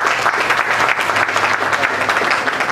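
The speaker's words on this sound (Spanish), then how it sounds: "Muy bien, aplausos." Sustained audience applause at a community swearing-in ceremony for neighborhood security boards in Chincha, Peru, a dense steady clapping crowd filling the whole stretch without pause.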